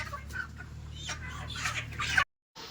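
Hens clucking in a farmyard coop, a steady near chorus of short clucks and cackles over a low hum, cutting off abruptly before a brief return.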